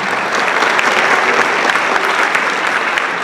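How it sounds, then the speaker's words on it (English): Audience applause at a high school spring band concert, steady dense clapping from a large crowd filling the hall, loud and continuous with no break. "Can you give all of our technology department a big round of applause for being here?"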